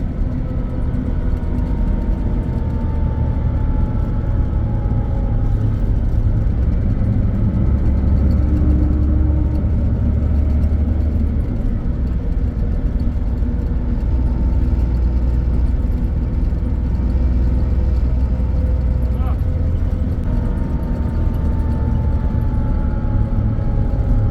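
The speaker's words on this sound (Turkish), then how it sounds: "30 saniye sonra rötörler sesi de geliyor arkadaşlar" A 2013 Temsa Safir coach drones on with a loud, steady low engine and retarder hum, a smooth continuous whir with faint whining tones rising and falling, close and without any talk.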